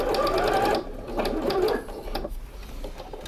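Sewing machine stitching the binding onto a patchwork quilt, a fast steady mechanical whir in three bursts with short pauses between them as the fabric is turned, fairly close and alone.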